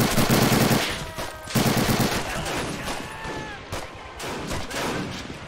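Machine gun fire in the Men of War: Assault Squad game during a Pacific airfield battle at Saipan, with loud rapid bursts of automatic fire over a dense battle din.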